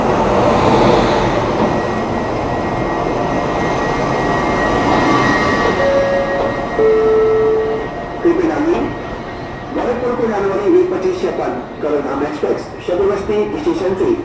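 Humsafar Express train rumbling at a station, a steady loud rolling roar that eases off midway, followed by someone talking over the quieter station background.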